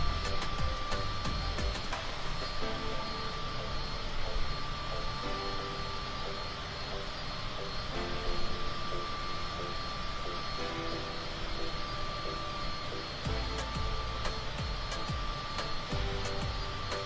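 The LivToAir CJ3+ business jet in Microsoft Flight Simulator 2024 gives a continuous, steady engine roar with a high whining tone layered over broad rumbling noise, loud and unbroken throughout.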